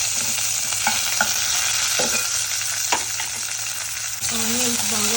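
Curry leaves and spices sizzle steadily in hot oil for aloo kurma, a dense close hiss broken by a few sharp pops and crackles and a brief stir near the end.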